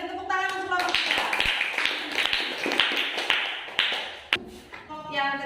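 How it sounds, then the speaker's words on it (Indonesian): A class of students claps for a student group, brisk scattered applause that swells and fades over a few seconds, with children's voices and chatter heard before and after it. "Kita beri tepuk tangan untuk kelompok 3."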